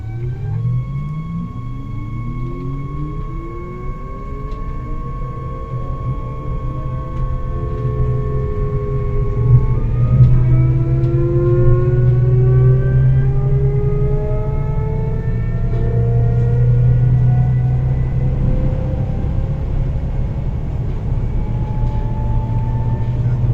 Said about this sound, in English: let's see how quick will this train get to 100 miles an hour